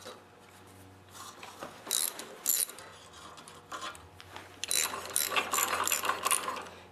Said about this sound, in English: Now I'm going to remove the exhaust manifold, and for this you're going to need a T45 torx bit.